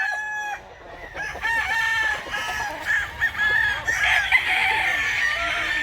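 Chickens and roosters, a batch bought for Masbate, crow and cluck continuously and close by, with several birds calling over one another and a dense, busy chorus throughout.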